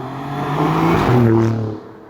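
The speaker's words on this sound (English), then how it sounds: "just say Alfa Romeo Giulia Quadrifoglio." An Alfa Romeo Giulia Quadrifoglio engine revs up and holds a loud, rising drone for about two seconds, then drops away, close by with no talk.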